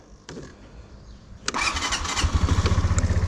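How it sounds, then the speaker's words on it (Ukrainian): A black Suzuki Address V125G scooter engine cranks and catches at about 1.5 seconds, then settles into a loud, near, steady throbbing idle with a regular low pulse. "Коротенький тест-драйв на Suzuki Адрес v 125 g в чорному кольорі"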